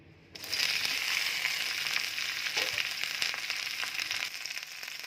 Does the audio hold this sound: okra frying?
yes